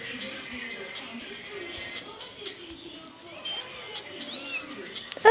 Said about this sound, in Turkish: Kedicim. Tatlım.